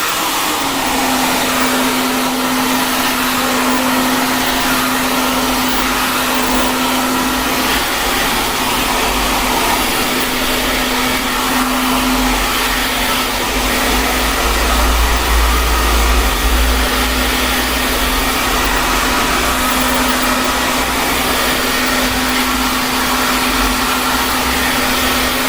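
A hair dryer blows steadily on hair, a loud continuous whirring rush with a constant motor hum lasting the whole span, no talk.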